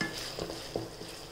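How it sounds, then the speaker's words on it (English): Chopped onions frying and being stirred in a pan while cooking a fish curry, giving a steady soft sizzle with a few light scraping stirs, close and fairly quiet, with no talk. "Fry the onions up to brown color."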